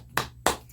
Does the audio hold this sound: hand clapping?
yes